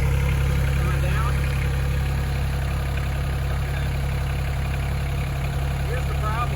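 Tractor engine idles with a steady low rumble and even mechanical drone, close and continuous, while a person talks over it.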